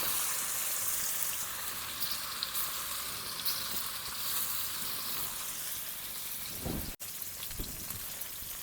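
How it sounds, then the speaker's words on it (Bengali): Marinated chicken fries in hot mustard oil with a dense, steady sizzle close by, broken by a couple of brief bumps near the end. "ম্যারিনেট করে রাখা মাংসগুলো ভেজে নেবো"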